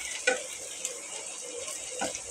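Onions added last to a pan and frying alongside a Bengali home meal, giving a soft, steady sizzle with a few brief stirring scrapes, close and fairly quiet, with no talking.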